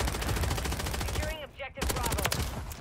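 Rapid automatic fire from an AMR-9 submachine gun in Modern Warfare 3, a fast close rattle that briefly stops and then resumes, with a voice speaking faintly during the pause.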